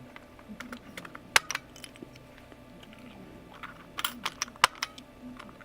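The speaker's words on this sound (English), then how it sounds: "it should actually show me rapidly putting on the keys" Keycaps snapped rapidly onto an IBM Model F keyboard during a cleaning and rebuild, giving sharp plastic clicks in two clustered bursts separated by a quieter stretch of faint handling noise.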